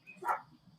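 A single short dog bark sounds at close range, brief and moderately loud against a quiet room.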